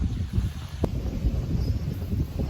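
Strong gusty wind at sea buffets the microphone in uneven low rumbles, with a brief sharp knock partway through; no voices.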